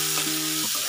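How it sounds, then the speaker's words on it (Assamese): Onions fry in mustard oil until reddish, a steady close sizzle with light stirring over less than a second, and no talking. "এতিয়া মই এইখিনি ধুনীয়াকৈ ৰঙা কৰি ভাজি ল'ম।"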